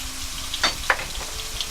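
Pancake hamburger meat patties fry in a pan on medium heat, giving a soft steady sizzle with a couple of brief pops and crackles, quiet and close with no talk.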